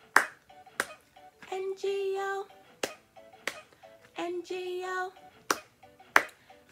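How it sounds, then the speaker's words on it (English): Pairs of sharp hand claps in a preschool classroom, two at a time in a steady rhythm, alternating with children singing a counting song. "Now this time, clap two times."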